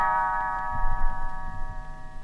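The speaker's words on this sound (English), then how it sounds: "You will know it is time to turn the page when Tinker Bell rings her little bells like this." Tinker Bell's little bells ring out as a bright, sustained chime signalling a page turn, the tones holding steady for about two seconds over a soft low rumble.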